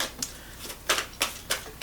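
Tarot and oracle cards are handled and shuffled up close, giving a series of crisp, papery slaps and flicks at an uneven pace with no talking.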